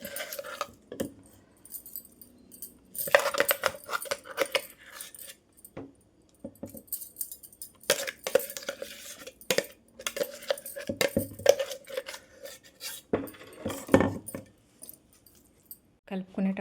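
Ground gongura being mixed by hand into cooled tempering for pickle, with intermittent close clinks and scrapes of a spoon against a metal vessel arriving in scattered bursts, while a person talks over it.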